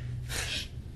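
A person sneezes once in a Finnish TV drama scene, a short breathy burst over a low steady room hum, with no talking.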